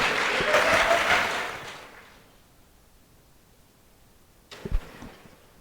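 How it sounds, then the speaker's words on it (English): Audience applause at an interactive forum event, a dense crowd clapping loudly for about two seconds before fading out, followed by near silence and a brief thump near the end. "A round of applause for them."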